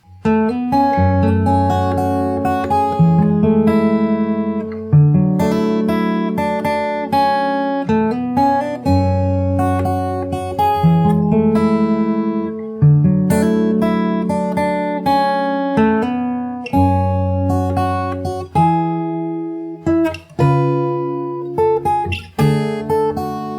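Fingerpicked guitar plays the chorus of a song, individual plucked notes and bass tones ringing close and clear, unaccompanied.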